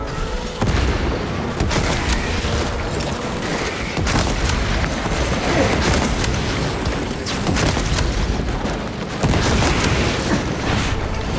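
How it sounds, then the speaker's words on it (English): Frag grenade blast amid heavy combat in Warhammer 40k Space Marine 2, dense booming explosions and rattling gunfire that stay loud and continuous throughout, with no talking. "Throwing frag grenade."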